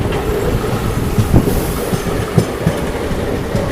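A train pulling out of Thrissur railway station, with rhythmic clickety-clack of wheels over rail joints and a broad rumble of carriages, heard close and loud with no talk.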